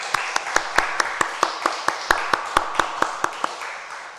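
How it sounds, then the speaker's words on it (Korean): Steady rhythmic clapping in a church service, about four claps per second, sharp regular beats over a softer bed of scattered hands from the congregation. "우리 집사님들 부부를 위해서 박수 한번 해주시면 좋겠습니다."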